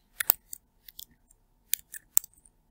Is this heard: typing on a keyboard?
yes